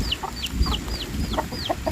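Chickens cluck in a quick repeating series of short calls, close and fairly loud, on a rural farm plot on a rainy night, with low background rumble beneath.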